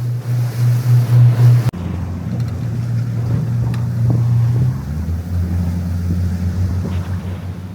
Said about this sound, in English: The wind is very strong.